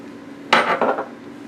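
Pimento peppers for pickle relish are dumped on top of other ingredients to drain, a single brief clattering tumble lasting about half a second before things settle quiet.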